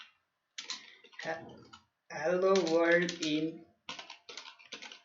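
Quick keystrokes on a computer keyboard typing hello world into PyCharm come in short clicking clusters, with a brief stretch of speech in between.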